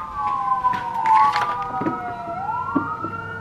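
Wailing sirens, several overlapping tones rising and falling, moderately loud and steady, with some background street noise.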